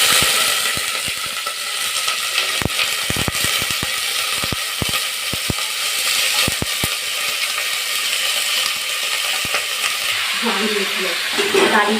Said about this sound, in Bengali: আলুর সবজিগুলো ভাজা ভাজা হয়ে গেছে